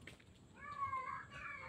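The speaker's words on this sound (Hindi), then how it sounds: "ऐसे रोते हैं बिल्ली? बिल्ली बिल्कुल इंसान की तरह रोते हैं।" A cat cries out at night on a dark road, giving a long, wavering, human-like wail that rises and then trails into a second shorter cry, fairly close over low background rumble.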